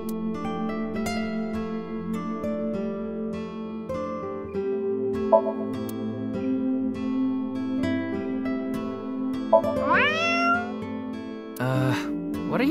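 A cartoonish cat meows a few times over light background music in a video game, with short bright rising mews near the end.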